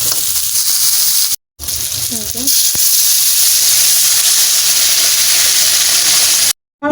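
Hot water is poured into sizzling chicken curry in a pan, setting off a loud, continuous hiss and sizzle with bubbling and steam that runs nearly throughout, broken by two brief silent cuts.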